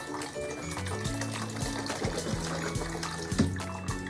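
About two quarts of liquid poured into a pot of chicken soup make a steady, trickling flow over a background of music-like tones.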